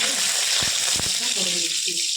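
Chillies and dried red chillies frying in hot oil in a home kitchen, a steady close sizzle with a few brief knocks partway through.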